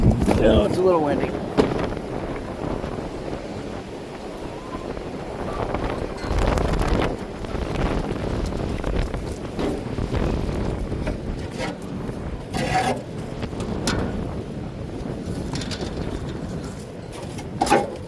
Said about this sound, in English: Oh, it's a little windy.